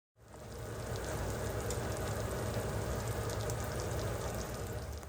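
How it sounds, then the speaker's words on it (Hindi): Masala paste with spices sizzling and frying in a pan, a steady, dense crackle that holds evenly throughout without pause. "फिर अच्छे तरीके से हम उसके साथ उस पेस्ट के साथ इस मसाले को भूनेंगे"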